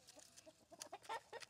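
Several chickens clucking softly close by, a quick scatter of short, uneven clucks over a quiet background.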